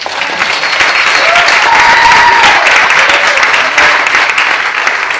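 An audience at a French-speaking church revival camp applauds steadily for Jesus, a dense, loud wash of clapping that holds for several seconds with faint cheering mixed in.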